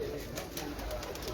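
Pigeons of an antique breeder's flock coo softly and steadily, a low continuous murmur in the background beneath people talking.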